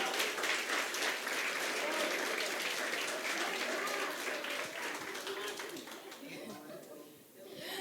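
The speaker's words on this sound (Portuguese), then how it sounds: "Pode aplaudir." A church congregation at a celebration service claps together in sustained applause with some murmuring voices mixed in, the clapping thinning and fading toward the end.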